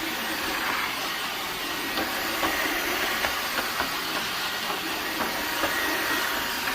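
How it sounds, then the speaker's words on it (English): A Dreametech H12 wet dry vacuum runs in suction mode, pulling water off a floor with a constant loud broadband whoosh and hiss, dotted with faint clicks. "the sucking mode is what takes the water off the floor"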